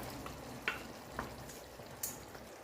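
Tomato sauce made with tomato paste and water simmers in a pan, giving a faint, soft sizzle with a few sparse pops and bubbles.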